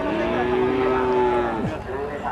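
A Simmental calf moos once in a long, drawn-out call that ends in a short downward slide, close and loud over steady farmyard background noise.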